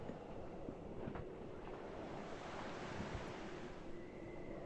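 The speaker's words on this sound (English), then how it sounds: "You can hear the sound of water." Faint, steady rushing water echoing up from a pitch-dark underground passage, a low continuous wash with occasional soft splashes.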